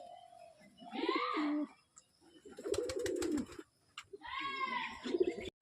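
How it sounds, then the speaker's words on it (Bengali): Pigeons in and around their loft give soft throaty coos in short rolling phrases, with a burst of wing flapping or fluttering between calls, fairly close. "আমার কিছু পায়রা ঘরের ভিতরে আছে আর কিছু পায়রা বাইরে চলে এসছে"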